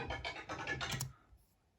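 A stick is dragged and knocked along a fence at Alton Towers, giving a quick run of faint, scratchy, rattling taps lasting about a second before fading out.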